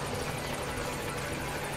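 A helicopter in Metal Gear Solid V drones with a continuous loud rotor whir and engine hum, steady and close throughout.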